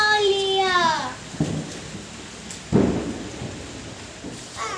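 Heavy rain and thunder on a Diwali night in Assam: a steady wash of rain with two distinct thunder cracks that fade into rumbles, and a voice briefly at the start.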